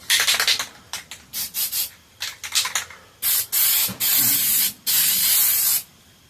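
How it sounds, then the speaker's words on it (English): Spray paint can hisses in a run of short bursts followed by several longer sustained sprays, loud and close, with brief silences between each push of the nozzle. "it's really wanting to kind of spray out hard there"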